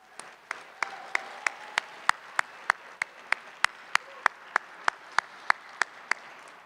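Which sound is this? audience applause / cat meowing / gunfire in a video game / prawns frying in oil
audience applause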